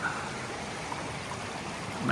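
A creek in Gorges State Park flows with a steady, close rushing and trickling wash of water that fills the whole moment without pause.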